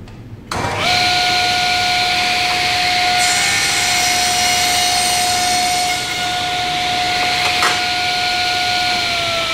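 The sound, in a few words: table saw cutting wood with miter gauge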